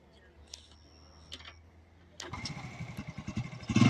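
A motorcycle engine starts up partway through and runs with a steady, close, rising chug while a beginner learns to ride, after a quiet stretch with a few faint clicks.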